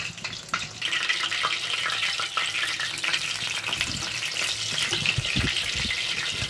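Chicken cutlets frying in a pan over medium-low heat, a steady, dense crackling sizzle running throughout at close range, with a few soft low bumps of the pieces shifting in the oil.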